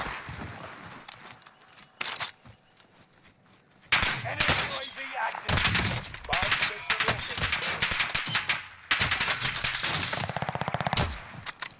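Rapid bursts of automatic gunfire in a shooter video game ring out in dense, loud volleys, with a quieter stretch early on and heavy sustained firing through the rest.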